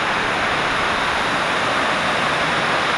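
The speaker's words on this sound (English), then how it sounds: "This was such a nice waterfall." At Sherman Falls, the waterfall makes a dense, steady, broadband roar of falling water, loud and close, with no other sounds.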